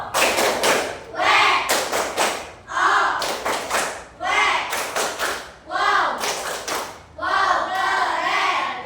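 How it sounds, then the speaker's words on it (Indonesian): An audience claps together in a rhythmic, patterned 'tepuk' applause, bursts of quick claps separated by brief pauses, loud and close, with voices chanting along. "Kita kasih apresiasi dengan tepuk pol."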